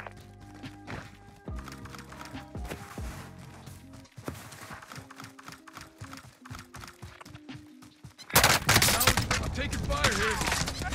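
Video-game gunfire from a Bullfrog gun: sharp shots and short bursts ring out amid game effects, then a loud dense barrage in the final seconds, with some talk in the mix.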